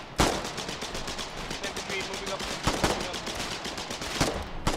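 A steady rapid stream of machine-gun fire aimed at foxholes in the video game Colonial Marines, evenly spaced shots with a few heavier cracks, loud and close, and brief talk underneath.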